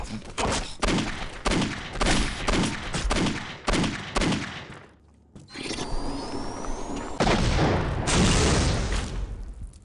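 Game explosions and gunfire: a rapid series of loud bursts in the first half, a short lull, then sustained roaring blasts and fire with faint talk mixed in.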